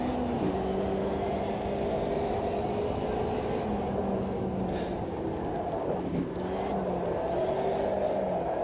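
Race car engine in the Automobilista 2 sim racing game, heard steadily and up close as the car closes in under braking, its pitch stepping down with a few dips around downshifts before it holds a constant drone.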